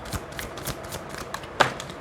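Tarot cards are shuffled and drawn during a reading, a run of soft riffling flicks and taps close by, ending in a sharper snap of a card, with no voices.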